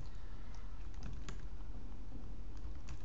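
Rapid typing on a computer keyboard while entering a terminal command, a steady stream of close, crisp key clicks with a few sharper taps and no talking.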